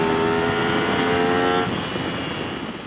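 Aprilia Tuono V4 1100 Factory motorcycle with its V4 engine revving as the throttle opens, a loud steady harmonic drone that holds strong then eases slightly into a rougher, lower rumble.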